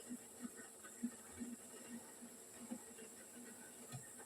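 Gulab jamun dough balls frying slowly in oil over low heat, a soft continuous hiss with faint scattered small pops and bubbling, quiet and steady throughout.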